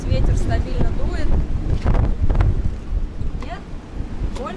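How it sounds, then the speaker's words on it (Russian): Hurricane Nicole's winds blast at around 40 knots across a boat anchored in Hooker Bay, Florida, roaring loudly and buffeting the microphone in heavy gusts with no pause. "В общем, сейчас у нас 40 узлов, порывы, даже больше уже. Ну и 30, ветер стабильно дует."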